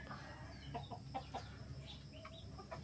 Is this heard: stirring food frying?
no